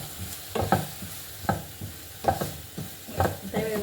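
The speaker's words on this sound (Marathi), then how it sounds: "आता व्यवस्थित परतून घ्यायचं, जेणेकरून हा सगळा मसाला आहे या मिश्रणाला लागेल." A spice mixture of turmeric and garam masala for baingan bharta is sautéed and stirred in a pan. Soft sizzling runs underneath, and about five distinct scraping strokes of the spatula come through clearly, close to the microphone.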